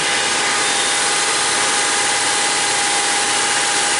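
A Buick Grand National engine idling high at about 2,000 RPM, its idle stuck well above normal; a steady, loud, unbroken drone fills the whole stretch with no talk.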